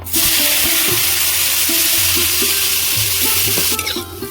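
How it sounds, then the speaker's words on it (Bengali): Cauliflower crackles and sizzles in hot oil close by, a dense steady hiss with a faint hum beneath, and no one speaking. "এবার আমি ফুলকপিগুলো ভেজে নেব"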